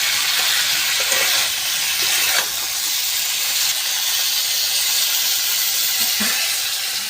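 Water hits a pan of chili-spiced, fully fried masala paste for a tilapia and vegetable curry, giving a loud, steady steaming hiss that runs for the whole clip and eases slightly near the end.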